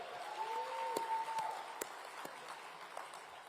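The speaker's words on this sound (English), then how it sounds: "let's clap it up for that" A crowd applauds in a soft, continuous patter of many hands, fairly distant, with a few sharper claps and a brief whistle, at a Republican Jewish Coalition leadership summit.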